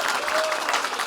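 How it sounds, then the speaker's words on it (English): A brief, dense burst of audience applause at a Hispanic Heritage Month event, steady clapping from a crowd with a faint murmur of voices mixed in. "let's give a round of applause for Cheech."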